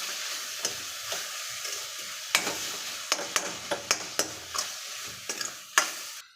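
Grated raw mango sautéing in oil with curry leaves, giving a soft steady sizzle broken by a series of scraping stirs of a spoon against the pan, close and clear with no talking.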